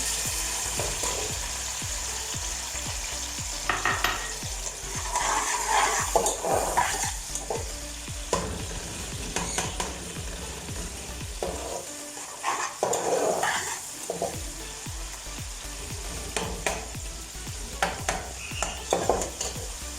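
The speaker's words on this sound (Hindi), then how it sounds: "ऑयल डालना सबसे पहले, इसको गर्म कर लेना। सबसे पहले टमाटर डाल देंगे" Tomatoes drop into hot oil and fry with a steady close sizzle, while stirring and metal utensil clatter against the pot come and go over about twenty seconds, without speech.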